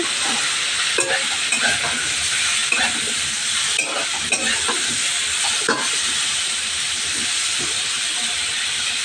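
Vegetables with tomato frying in a pan, a loud constant hiss and sizzle broken by repeated scrapes and knocks of stirring at irregular intervals.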